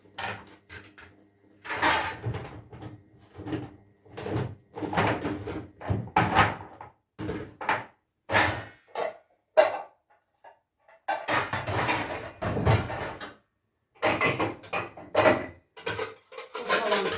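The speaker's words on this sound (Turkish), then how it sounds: "Tenceremin kapağını arıyorum." Clattering bursts of metal pots and lids being shifted and knocked together, with pauses between bouts of rummaging, close by.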